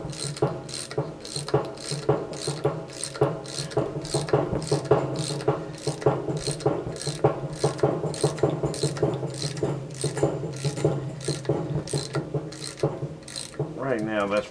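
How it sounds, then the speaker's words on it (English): A Snap-on ratchet tightens half-inch square nuts on a Frick saw guide, producing a long run of rapid, evenly spaced mechanical clicks, close and loud, with no talking. "good old trusty Snap-on. These are half inch half-inch square nuts in the back of these."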